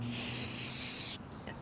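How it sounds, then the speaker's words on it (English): A steady hiss of aerosol cleaner sprayed onto a pressure washer part, lasting about a second, close up, cutting off abruptly with faint rustling after. "we're going to spray it down with some cleaner"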